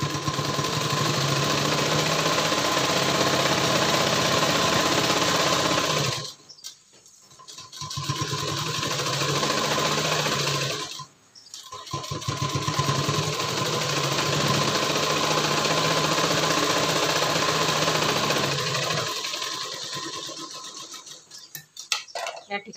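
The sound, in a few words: sewing machine stitching a dart on a blouse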